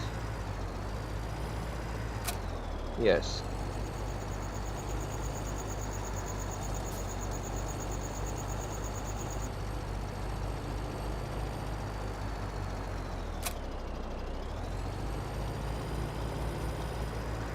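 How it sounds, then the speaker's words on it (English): Truck engine idling and rumbling in Farming Simulator 2017, a steady low drone throughout with a short hiss or squeal burst and a faint high tone, and a brief word spoken. "Okay, the truck should have the attachment to drag this."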